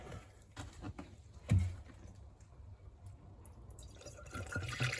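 Coolant being poured into the expansion tank of a twin-turbo Porsche, giving faint liquid trickling and dripping sounds with a few brief louder knocks, alone with no talk.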